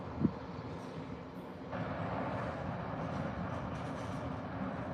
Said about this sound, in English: That's what's known around here as the engineer's train.